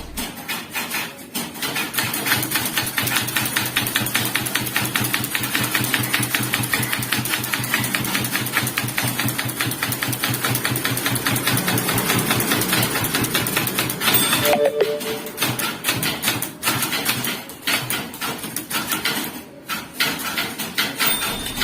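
A typewriter clatters with fast, steady key strikes while English text is typed, a continuous run of close clacks broken by short pauses near the end.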